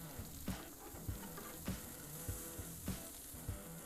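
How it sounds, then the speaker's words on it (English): Small snacks sizzle on a grill next to flap steak, a steady soft crackle of fat with occasional louder pops spaced through, fairly quiet and close, with no voices. "I'm gonna go ahead and throw these little snacks on the grill just for me."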